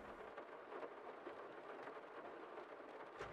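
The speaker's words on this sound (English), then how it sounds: "The rain pelting outside." Steady rain pelts down outside a building in a farming video game, a soft constant hiss of drops with faint low rumbles, heard from indoors and without talking.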